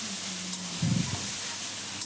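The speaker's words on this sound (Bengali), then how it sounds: "ভালো করে কষিয়ে নিচ্ছে মশলাটা।" Spice paste for a spicy snakehead fish curry fries in a pan with a continuous close hiss and a brief louder burst of sizzling near the middle.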